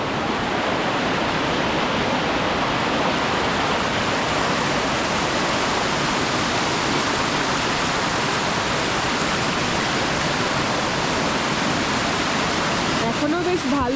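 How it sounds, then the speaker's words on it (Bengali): Water gushes hard down a fast-flowing stream in a Bosnian village, a loud, dense, unbroken roar of rushing water that fills the whole clip without letup. "এখান থেকে একদম প্রচণ্ড গতিতে জোরে জোরে জল আসছে।"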